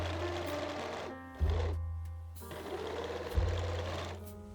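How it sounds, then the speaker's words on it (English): A sewing machine overlocks or zigzags the side seams of cotton boxer shorts, a close, steady motor whir in two runs with a short pause between, and no voices. "Now overlock or zigzag the side seams."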